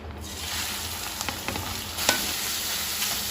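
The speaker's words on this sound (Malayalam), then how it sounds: "മൂന്ന് സവാള കട്ട് ചെയ്ത് വെച്ചതാണ് ഇത് ഞാൻ ഇതിലോട്ട് ഇട്ട് കൊടുക്കും" Three sliced onions frying in hot oil for a restaurant-style soya chunks dish, with a steady close sizzle and a few light scrapes and taps of a spoon in the pan, no voices.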